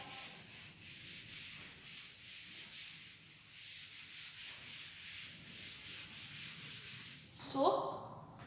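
A duster rubs writing off a board during a maths lecture, a steady scratchy back-and-forth scrubbing with rhythmic strokes, close and fairly quiet, ending with a brief squeak.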